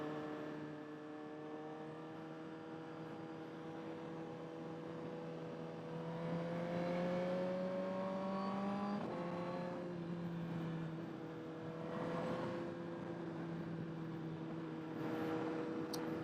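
A 2022 Suzuki GSXR 1000R engine whines steadily while being ridden, its pitch climbing slowly, dropping sharply at a shift, then rising and settling again, close and fairly quiet.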